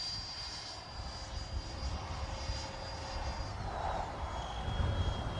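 A Freewing F-22 90mm electric ducted-fan RC jet on a 6S pack flies past outdoors with its gear down, a steady whooshing whine held at moderate distance for several seconds, rising slightly toward the end.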